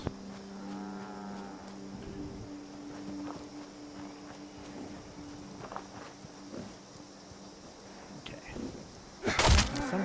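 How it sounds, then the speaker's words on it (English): Cows in the video game Fallout 76 give a few low, drawn-out moos early on, followed by soft hoof steps and scattered clatter, with a louder burst near the end and a voice talking faintly at times. "there's some cows"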